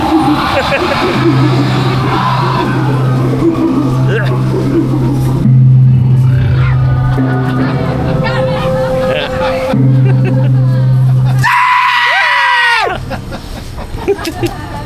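A person lets out one sharp, rising shriek near the end, inside a Halloween haunted house attraction. Before it come crowd chatter, humming effects and a low droning tone.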